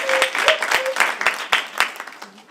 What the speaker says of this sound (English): So can we get a clap?